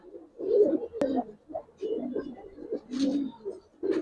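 Several pigeons, a mix of Giribaz flying pigeons and coloured fancy pigeons, coo in soft low repeated bursts close by, with brief pauses between phrases and no talk over them.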